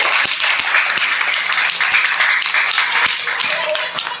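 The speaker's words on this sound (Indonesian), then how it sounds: "Tepuk tangan dulu." A classroom of children claps for classmates after they present a lesson on cube faces, vertices and edges; steady applause runs throughout, with some voices mixed in.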